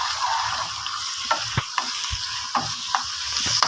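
Onions frying in a pan with garlic and cumin paste added, a continuous close sizzle with a few soft spoon taps and stirring knocks, no voices.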